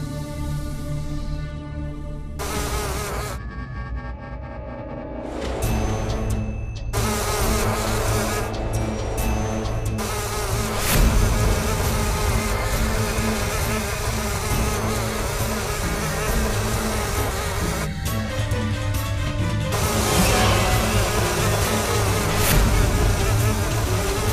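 Mosquitoes buzz in a steady, high-pitched insect drone that carries on for over twenty seconds, mixed with dramatic background music and occasional sharper effects, with no one speaking.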